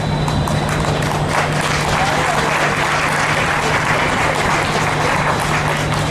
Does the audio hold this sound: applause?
yes